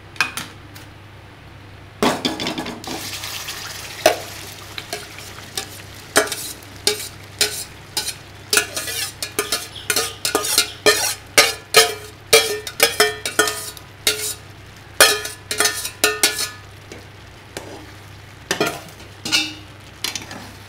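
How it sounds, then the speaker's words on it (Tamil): Sweet rice pudding (akkaravadisal) being stirred in ghee in a pan, with a steady run of close scraping and clinking strokes over a soft sizzle, the stirring growing busier and more rhythmic after a brief quiet start. "இதை கிளறணும். நல்லா கிளறணுங்க."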